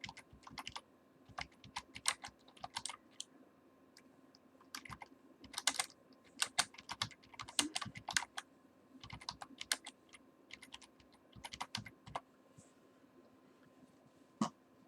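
Fingers type on a computer keyboard in irregular bursts of close, crisp key clicks separated by brief pauses, with a faint steady hum underneath.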